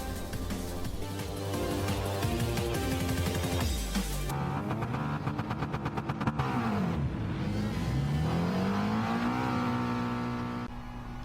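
A race car engine in Gran Turismo Sport accelerates out of the pits at Interlagos, revving loudly and climbing through gears with a steady, continuous roar and rising pitch.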